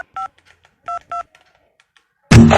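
Telephone keypad dialing, with three short clear tone beeps spaced apart, followed by a loud burst of rustling handling noise at the end.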